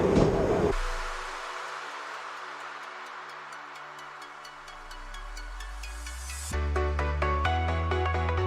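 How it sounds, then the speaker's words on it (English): A tram rolls across a large metal bridge in Porto, a sustained rumble with rhythmic clicking over rail joints and a tonal metallic hum that swells louder toward the end. "There goes the tram across the bridge."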